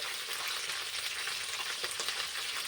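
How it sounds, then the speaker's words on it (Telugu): Curry leaves and mint leaves frying in hot oil for a tamarind-leaf pulihora give a steady, close crackling sizzle with dense spitting pops throughout, no voices. "కరివేపాకు పొడి పొడిగా ఫ్రై అయ్యే వరకు."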